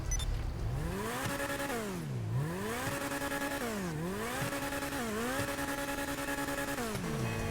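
The Entity XF supercar in GTA Online revs hard and runs through the gears, its engine pitch climbing and dropping in repeated sweeping arcs, loud and close, with no talking.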